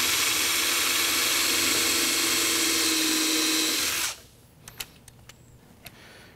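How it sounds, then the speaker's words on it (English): A power drill runs steadily for about four seconds, driving a screw into a wooden bookcase, then stops, followed by a few sharp clicks and knocks. "And we'll go ahead and put our screws in."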